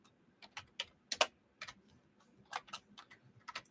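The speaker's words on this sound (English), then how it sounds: "I am typing like a crazy man." Rapid bursts of clicky keystrokes on a computer keyboard, close and fairly quiet, coming in uneven clusters with a few louder taps, no voices.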